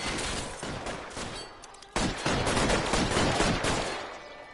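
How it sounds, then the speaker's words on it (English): Tommy gun firing in the video game L.A. Noire, dense bursts of rapid automatic gunfire with echoing shots, loud and sustained, a brief lull before another heavier burst. "I got the Tommy gun."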